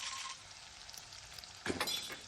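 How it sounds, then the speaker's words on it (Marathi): Edible gum (dink) frying in a pan of hot fat, a soft steady crackling sizzle, quiet and close, with a brief louder burst of bubbling near the end. "मी 3 चमचे डिंक घेतला आहे, तो पण मी आता तळून घेते आहे."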